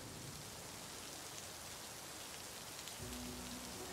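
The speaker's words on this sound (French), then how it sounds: "Sous une super météo en plus, il pleut." Rain falling on a street in the Whitechapel district of London, a dense steady hiss of drops throughout, close and even, with a faint low hum appearing near the end.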